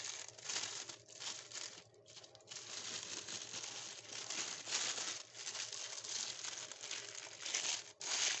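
Butter paper crinkling and rustling as a homemade chicken shawarma is wrapped: continuous close, soft crackling and crumpling with brief pauses, quiet and alone without any talk.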